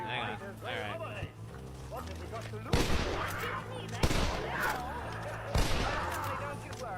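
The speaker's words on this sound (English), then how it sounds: "Oh, my God, I just shot him." Three loud, sharp gunshots from the video game L.A. Noire crack out at roughly even intervals over steady game music and background ambience, aimed at cougars in the wild.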